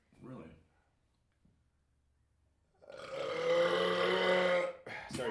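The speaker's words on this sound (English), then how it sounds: "That was a good belch, but it didn't come close to 113." A loud, long belch from a man, rising after a brief burst of speech and a pause, rumbling for nearly two seconds before a voice cuts back in.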